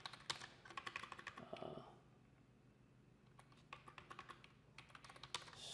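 Keys clatter on a computer keyboard in quick, uneven bursts, with a short quiet pause in the middle before the typing resumes, soft and close.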